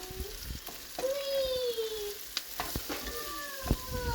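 Soft sizzling of an egg frying in a pan, with a few sharp clicks and scrapes, and faint tonal squeaks from the utensil.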